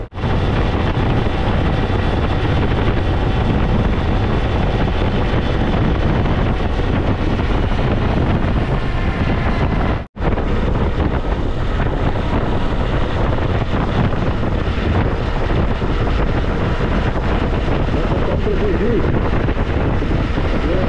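Strong wind roars through the Andes cordillera during a sandstorm on Ruta 40 near the Atacama, a loud continuous buffeting rush against the microphone that cuts out for an instant midway.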